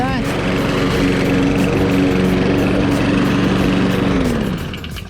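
A Prorab GML 5114 i petrol lawn mower drones loudly and steadily while mowing grass, close by, fading slightly at the end, with someone talking over it.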